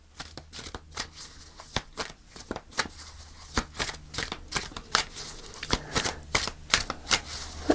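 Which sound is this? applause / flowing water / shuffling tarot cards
shuffling tarot cards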